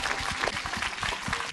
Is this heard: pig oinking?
no